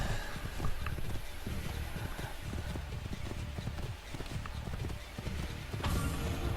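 Horse hooves clip-clopping at a steady trot in the video game Assassin's Creed 2, a fairly fast rhythm of hoofbeats over a constant noisy background.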